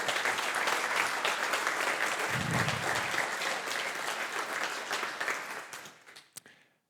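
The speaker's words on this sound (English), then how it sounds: "So, please applause." Conference attendees at a PHP developer event give a sustained round of applause, a broad crackle of many hands that thins and tapers off near the end, with a few last claps.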